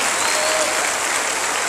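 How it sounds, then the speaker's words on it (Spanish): A crowd at a political rally in Rioverde, San Luis Potosí applauds steadily, a dense, even wash of many hands clapping with no voices standing out over it. "un aplauso a los migrantes"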